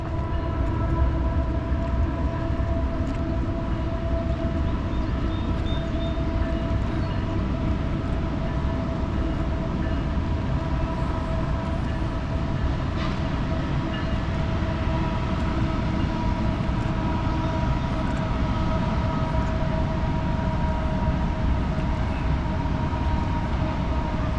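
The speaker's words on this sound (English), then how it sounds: "See a freight train crossing the river." A freight train crosses a bridge over the Delaware River, heard from a distance as a steady, continuous rumble and clatter of wagons with a sustained tonal drone running the whole time.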